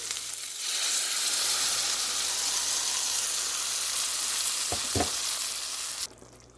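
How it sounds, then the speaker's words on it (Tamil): Coconut milk hits a hot pan of oil and a loud, steady sizzle follows, with a couple of brief stirring clunks before it suddenly cuts off. "இந்த நேரம் தேங்காய் பால் விடுறேன்"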